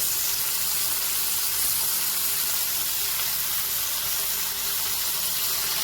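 Green chillies and radish leaves sizzle loudly and steadily in a pan with sesame seeds and peanuts, a dense, close, hissing frying sound that continues without pause and with no talk over it.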